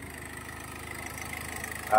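Engine of a homemade vehicle-based generator running continuously, with an electric fan cooling it, a steady low idling hum with faint rhythmic pulsing throughout and a slight rise at the end.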